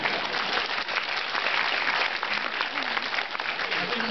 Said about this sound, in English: it's getting a round of applause in the back